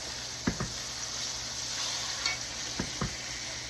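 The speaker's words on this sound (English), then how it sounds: "It don't take long to cook cube steak, which is good because I love cube steak." Cube steak fries in a pan with a steady, close sizzle. A utensil scrapes or taps against the pan in a few distinct clicks, two near the start and more toward the end.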